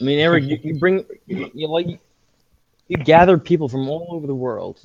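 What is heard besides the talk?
None of the usual background noises is heard.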